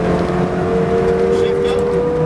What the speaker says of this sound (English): Accelerate to the right-hand side of the track and full power